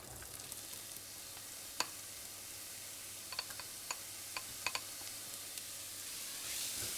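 Onions sweating in a little oil in a hot pan, giving a soft, steady sizzle with scattered faint crackles and pops, quiet and close, with no voices.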